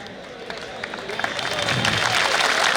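A crowd at a police training farewell party breaks into clapping that starts scattered and swells into dense, louder applause over a few seconds.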